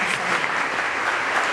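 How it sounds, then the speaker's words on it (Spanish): Steady, full applause from a church congregation welcoming a visiting church, dense and even across the short stretch with no voices heard. "un aplauso para la iglesia de"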